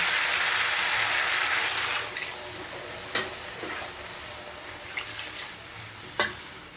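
Masala sautéing in hot oil for a Bengali fish curry, a broad steady sizzle that softens partway through, with a few sharp spoon scrapes and taps against the pan close by.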